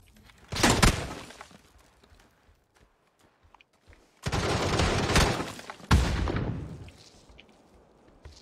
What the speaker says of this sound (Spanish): Creo que tiraron granada arriba abajo.